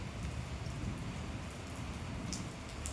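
Continuous rain falling, a dense, even patter with low rumble beneath, steady for the whole stretch with no talking.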